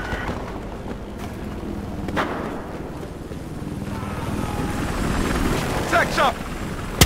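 Helicopter flying in the video game Battlefield Hardline, a steady rotor and engine drone running throughout under game chatter and effects, building slightly louder toward the end.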